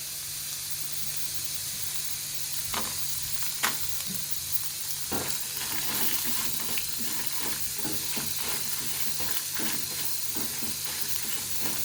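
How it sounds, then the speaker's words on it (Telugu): About ten dry red chillies fry in oil with a continuous sizzle. Scattered stirring clicks and scrapes can be heard throughout, with no one talking. "ఎండుమిర్చి వేస్తున్నాను."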